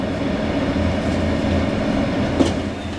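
Steady rumbling of a moving train heard from inside, on a line in Slovenia bound for Zagreb, with a low rolling drone and a brief metallic squeal near the end.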